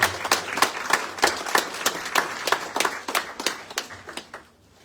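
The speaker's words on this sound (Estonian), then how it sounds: "Suur tänu, teeme suure aplausi." Applause at a book launch for Kaire-Külli Vaatmann's "Suursõit": a small audience claps in distinct sharp beats that thin out and stop near the end, heard alone without talk.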